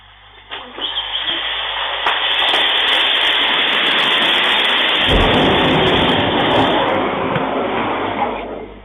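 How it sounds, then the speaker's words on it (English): A scooter's lithium-ion battery vents with a loud, sustained roaring hiss that erupts and continues for several seconds, with a sharp burst partway through. "how quickly, how violently that battery in that scooter reacts"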